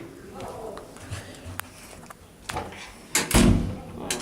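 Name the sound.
hydraulic wheelchair elevator door operating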